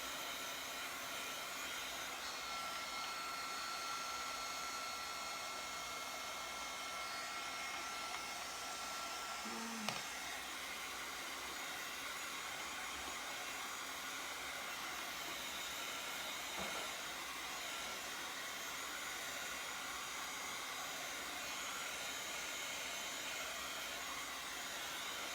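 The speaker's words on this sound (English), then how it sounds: "I'm going to dry this just a second with my heat gun" A heat gun blowing hot air over freshly painted sunglasses, a steady close whooshing roar that runs unbroken throughout with no talk.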